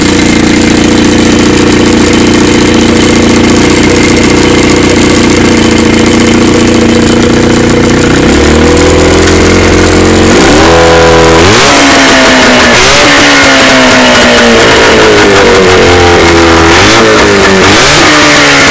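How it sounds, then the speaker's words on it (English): A boat engine loud and close throughout, steady running at first, then repeatedly revving up and dropping back in rising and falling sweeps during the second half. "I'll turn the camera back on once I get this boat engine running."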